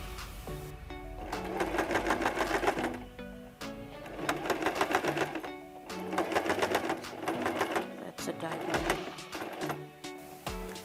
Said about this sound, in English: So we're going to sew the handles on both edges.